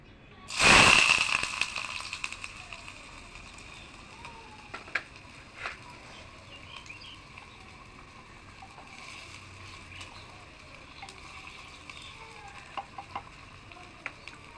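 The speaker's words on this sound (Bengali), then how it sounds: "গরম হয়ে গেছে, এবার আমি পেঁয়াজটা দিয়ে দিচ্ছি" Onion hits hot oil in a small home kitchen for aloo posto, setting off a loud hissing burst that settles into a long, steady, quieter sizzle with occasional light clicks.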